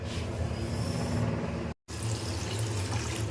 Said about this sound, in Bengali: ডিমটা ধুয়ে